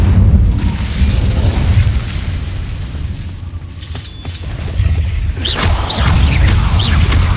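A fire spell being cast in the video game Hogwarts Legacy, heard as a loud, rumbling burst of flame with crackling and whooshing, fading briefly before a second surge near the end, with no voices.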